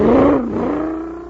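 A supercharged toy surface car in a 1950s science-fiction radio drama zooms away, a loud whirring engine sweep that rises and then trails off steadily, with no voices.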